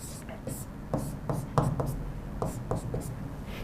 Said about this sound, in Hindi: एक बार इसको ऊपर लिखते हैं हम